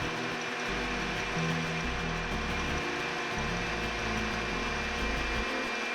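An electric mixer whisks egg whites and sugar in a bowl, a steady, loud mechanical whir with a shifting low motor drone and no pauses.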